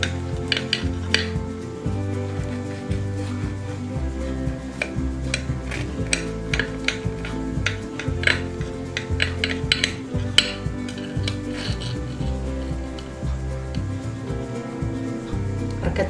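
Knife cutting through a homemade cinnamon roll cake on a plate, with repeated light scraping and clinking taps of blade on dish, close and steady over a quiet low background hum.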